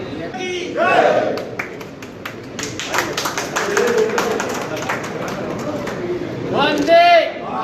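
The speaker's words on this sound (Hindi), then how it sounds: "सभी लोग तालियों से स्वागत करेंगे।" Crowd at a rally clapping to welcome speakers, a burst of scattered applause swelling in the middle between loud shouted calls and speech from a voice over a sound system.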